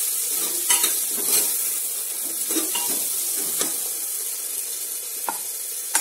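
Chopped tomato stirred through a spice masala in a pan for a French beans dish makes a gentle, steady sizzle, broken by repeated scraping and clinking strokes of a spoon against the pan.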